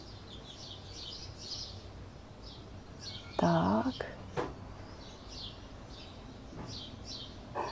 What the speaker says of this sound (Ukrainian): ви можете понасолоджуватися. Е, звуками птахів